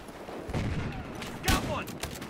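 Remington 870 shotgun blasts in Battlefield Hardline, one sharp, loud shot standing out over a busy, continuous backdrop of game gunfire, with a voice talking in places.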